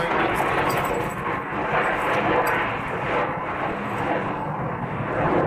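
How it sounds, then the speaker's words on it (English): A fixed-wing airplane roars past near an airfield, a broad continuous engine rumble that stays loud and close throughout, with indistinct voices underneath. "Do the planes go by all the time or what?"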